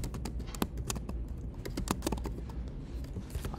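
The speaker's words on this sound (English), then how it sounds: "I'm going to type my message" Rapid, steady keystrokes on a computer keyboard as a short message is typed, close and fairly soft, with no talk over the clicking.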